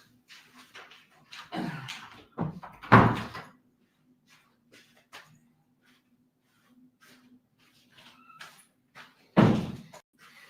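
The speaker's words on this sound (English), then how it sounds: "Sorry guys, let me shut that door." A door is shut indoors with a couple of soft knocks and bumps followed by a firmer thud, then quiet room tone with faint small handling sounds and another close impact near the end.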